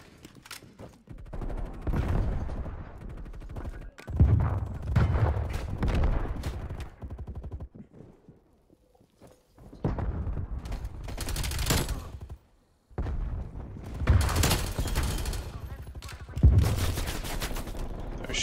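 Rapid gunfire from Black Ops Cold War gameplay: dense bursts of automatic shooting and volleys that pause briefly, then return loud and close in several clusters.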